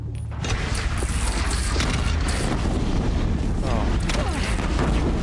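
Cannon fire from a bandit clan in the video game Horizon Zero Dawn, heavy booming blasts buried in a constant loud roar of battle noise and rumble that runs through the whole stretch.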